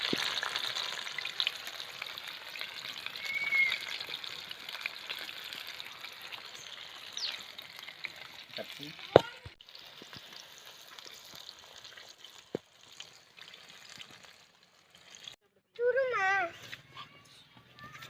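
Homemade KFC-style chicken frying in hot oil gives a steady, close sizzling hiss, with a few brief clatters and splashes near the end.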